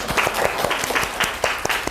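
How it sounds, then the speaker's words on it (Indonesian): A lecture audience applauds students Dimas and Margi during a university teaching session, a steady patter of many hands clapping close by for about two seconds with no voices over it. "beri tepuk tangan untuk Dimas dan Margi"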